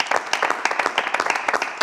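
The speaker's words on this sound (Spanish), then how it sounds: "Yo creo que se merece un aplauso." A studio audience breaks into brisk applause, a close, full patter of many hands that stays steady and loud with no speech over it.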